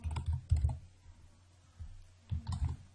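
Computer keyboard typing in short bursts of quick clicks, close and fairly quiet, with a pause in the middle before another burst, while a name is entered into an Access database form.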